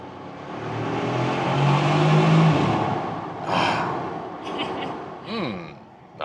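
A Bentley Continental GT hybrid accelerates from inside the cabin with a smooth, fairly subdued engine note that rises and swells, then eases off as a voice talks over the latter part.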